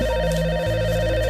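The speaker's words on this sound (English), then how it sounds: "Hank, come on, pick up the phone" A telephone rings steadily in an indoor police-station setting, a continuous electronic warble close and loud with no voices over it.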